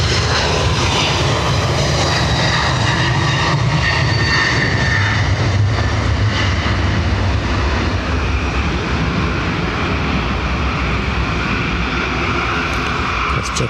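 A JetBlue jet airliner departing Dublin Airport for Boston gives a loud, continuous engine roar that holds steady throughout, broad and rumbling with a faint high whine on top, and no voices over it.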